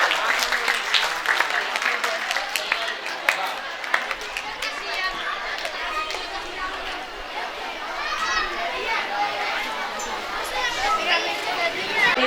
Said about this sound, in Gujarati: તાળીથી વધારશું.